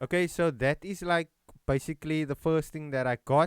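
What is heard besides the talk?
No everyday noise stands out behind the speech.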